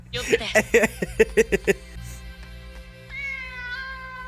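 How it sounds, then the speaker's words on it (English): Cat meowing in a scene from the Demon Slayer anime, a quick run of about eight short meows followed by a longer drawn-out cry, fairly close and clear over a soft background. "Yeah, I don't think that was a random cat."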